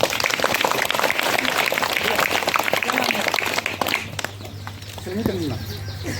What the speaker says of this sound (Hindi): जोर से एक बार ताली बजा दो।